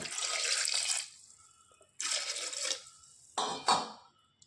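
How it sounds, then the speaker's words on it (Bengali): Water poured in three separate bursts into a pressure cooker holding lentils and taro, each a short splashing gush that tapers off, close and clear against silence. "এবার দিয়ে দেবো পরিমাণ মতো জল"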